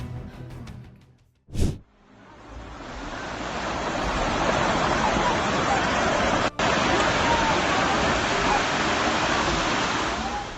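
Sea waves surge loudly and continuously after a magnitude 4.1 earthquake north of a coastal village, a broad roaring wash of surf with wind buffeting the microphone, preceded by a brief thump and a short dropout.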